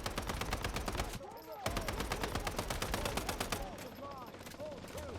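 Rapid, repeated gunfire from shotguns in the video game Once Human rattles on in quick bursts with a brief gap, while someone talks over it.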